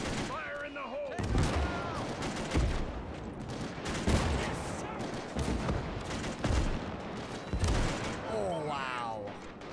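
Gunfire in the Iwo Jima game Valour Workshop: dense rifle and machine-gun bursts with heavy booms, loud and continuous, while a player speaks briefly.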